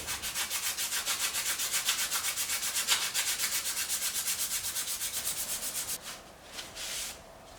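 Rapid rhythmic rubbing as a tractor gear shaft on a Simpson's Supremacy model 15 is cleaned up, steady back-and-forth strokes for about six seconds, then a few slower scrapes.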